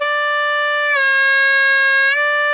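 A harmonica plays a sustained 4-hole draw note that bends down in pitch, holds, then rises back up, a bright reedy tone heard alone and up close.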